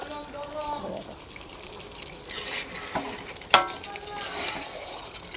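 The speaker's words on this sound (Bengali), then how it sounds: "আর আমি এখানে এখন এই মাটনটা কষা করছি।" Mutton frying and being stirred for kasha in a pan, a soft sizzle under occasional scraping strokes and one sharp clink of a utensil, with some background voice or movement mixed in.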